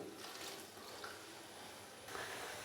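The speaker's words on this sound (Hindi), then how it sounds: "पानी अभी मैंने इसके अंदर इसलिए डाला है ताकि जो मसाले हैं वो जले ना।" About half a cup of water poured into a pan of lightly fried whole spices, giving a steady rushing, sizzling wash that swells slightly near the end.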